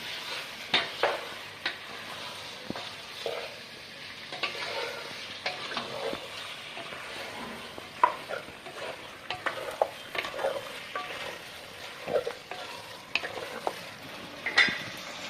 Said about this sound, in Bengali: মাংসটি আমি নেড়ে চেড়ে সুন্দরভাবে মশলার ভিতর মিশিয়ে নিচ্ছি।